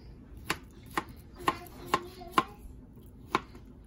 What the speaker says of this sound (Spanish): ahora estoy picando la remolacha